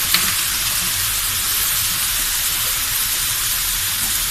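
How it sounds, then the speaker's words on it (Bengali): Spice paste for a rui fish curry, with a little turmeric added, fries in a pan as an even close sizzle and steamy hiss without pause. "মশলাটা কষাচ্ছি, এর মধ্যে সামান্য হলুদ দিয়ে দেবো"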